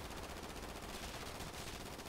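Rapid automatic gunfire in a video game, a steady dense burst of shots running the whole time at low level, with no voices over it.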